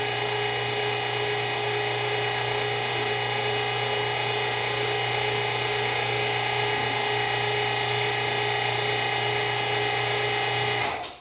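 An electric meat grinder grinding pork through its auger, a steady loud motor whine with a constant tone held for the whole stretch, no talk over it.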